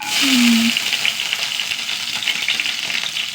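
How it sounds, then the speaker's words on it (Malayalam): Mustard seeds frying in hot oil for a tempering, giving a steady, close, broadband sizzle and crackle that holds for the whole stretch with no talking. "എണ്ണ ചൂടാവട്ടെ കടുകിട്ട് കൊടുക്കുക"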